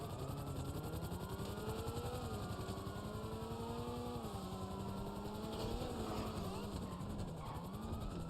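A helicopter in GTA Online drones with a steady whirring engine tone and shifting pitch, constant and moderately close, with occasional voices beneath it.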